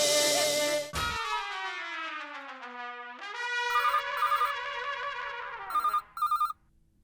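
A telephone ringing with a melodic electronic ringtone in a sitcom household, a chiming tune of descending and rising tones followed by a few short repeated bursts before it stops.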